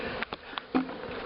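Bees at a hive top jar feeder, faint close buzzing with a few brief wingbeat bursts and soft taps over a quiet background.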